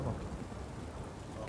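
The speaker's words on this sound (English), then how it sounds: "Don't stop raining, my arse will rot off. This downpour's a bastard." Heavy rain pours down in The Witcher 3, a dense, steady hiss of downpour with low rumbling underneath, continuous and enveloping throughout.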